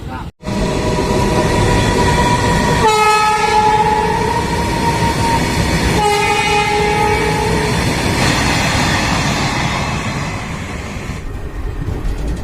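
A passenger train on the Rishikesh–Bandikui route pulls away from a station, with a loud continuous rumble and clatter of carriages close by, two sustained horn blasts a few seconds apart, and the roar slowly easing near the end.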